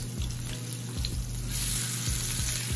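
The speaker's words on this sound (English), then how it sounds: "I think it's now time for us to flip our halibut" Halibut fillet pan-seared in oil sizzles steadily as it is flipped in the pan, a close, continuous frying hiss with a few soft clinks and shifts as the fish turns.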